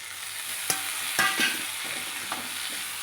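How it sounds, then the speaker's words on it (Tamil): Onions and tomatoes sizzling and frying in a pan for kurma, with a few scraping stirs and light clinks of a utensil against the pan. "இதையும் வந்து நல்லா வதக்கிக்கலாம்"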